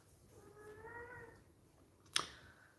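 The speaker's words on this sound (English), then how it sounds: "that's the sound of my cat" A domestic cat gives a drawn-out meow over a low purr, then a short sharp click sounds near the end, all quiet and close with no talking.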